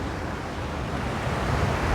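Steady, dense rushing water from a waterfall near a village in Nepal, a continuous broadband roar that stays even and close throughout, with some wind buffeting mixed in and no talking.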